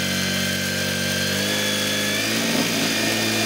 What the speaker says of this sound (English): we're just running it through. That's just to get that new oil pumping through the machine.